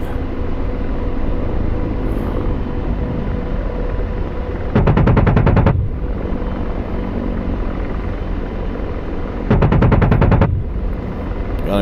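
An Apache Longbow's gun firing in a VR flight game, two rapid chattering bursts about a second long each, loud over the steady drone of the helicopter's rotors and engine.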